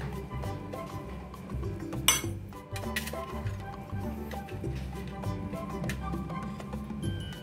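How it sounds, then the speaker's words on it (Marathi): A spoon stirs Kashmiri red chili powder and salt into a fresh turmeric pickle, giving soft metallic scrapes and clinks against the pot over a steady low hum, with one sharper clatter partway through. "आणि हे सगळं छान मिसळून घ्यायचं आपल्याला."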